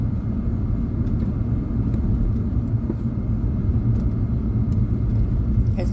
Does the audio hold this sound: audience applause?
no